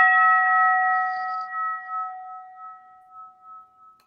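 A single bright strike of a debate timer bell rings out clear and close, then its pure tone fades away slowly over several seconds with a faint pulsing shimmer.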